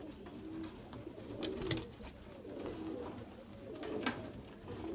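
Kasuri pigeons coo softly in low, repeated throaty calls from nearby, with faint rustling and a brief flutter among them, and no voices.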